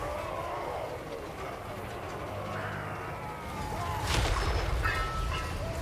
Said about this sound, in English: I love that clanking sound that all the machines do